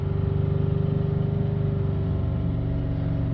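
A Nissan Navara diesel pickup with a repeatedly blocked DPF idles with a steady low rhythmic mechanical throb, close and continuous, no voices.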